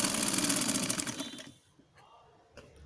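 A sewing machine stitching piping onto a blouse sleeve whirs loudly and rapidly for about a second and a half, then stops, leaving near silence with a couple of faint clicks.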